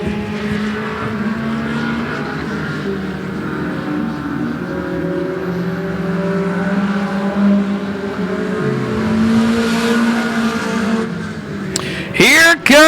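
Race cars run laps at the 105 Speedway during a regular race program, their engines droning continuously at mid distance under a trackside commentator's voice, with a sharper pass sweeping close by near the end.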